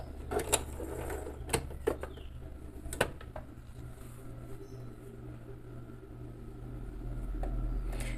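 Singer 4423 sewing machine running a zigzag stitch, a steady low mechanical hum with a rhythmic whir, close and fairly quiet, with a few sharp clicks early on.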